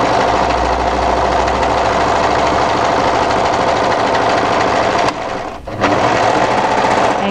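A sewing machine stitches a cardigan sleeve in one loud, steady mechanical run, with a brief pause near the end before it resumes.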